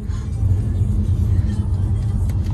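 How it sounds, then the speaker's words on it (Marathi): An interior car drive rumbles steadily with low engine and road noise throughout, loud and close, with no clear speech. "आमच्या मामी गाडी चालवत आहेत"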